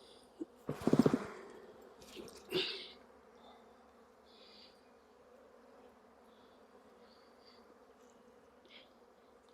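Honey bees hum and buzz faintly and continuously at a hive, with a couple of brief louder rustles and thumps near the start as frames are handled.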